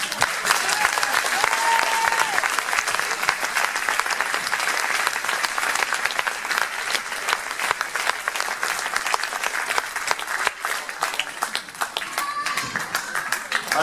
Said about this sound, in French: on peut l'applaudir Beryl